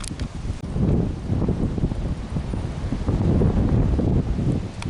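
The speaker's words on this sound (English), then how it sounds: "it's really windy today" Strong wind buffets the microphone outdoors during camper van bodywork, in continuous low roaring gusts, loud and rough throughout.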